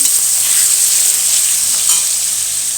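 Paneer frying in oil in a pan gives a loud, steady hiss of sizzling, close up and continuous, with no voices.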